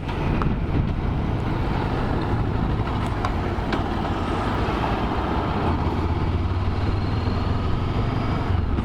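Steady wind roaring into the microphone, a continuous low rumble with broadband buffeting throughout and no voices.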